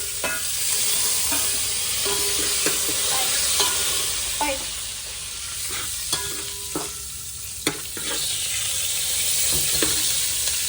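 Bay leaves and onion fry in boiling oil, a continuous bright sizzle close by, punctuated by occasional light clinks and scrapes of a spoon against the pan, with no talking.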